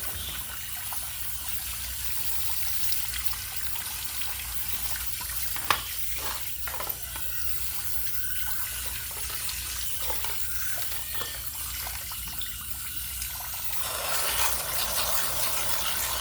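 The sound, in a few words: rinsing aquarium filter rocks under running tap water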